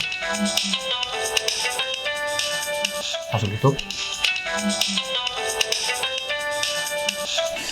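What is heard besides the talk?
phone ringtone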